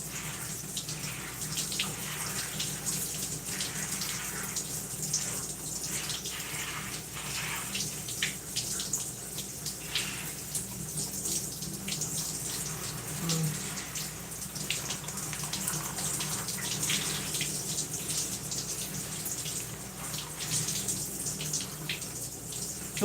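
Steady running water from a tap or shower while curly, dense hair is rinsed out during a wash, a continuous close hiss with no talking.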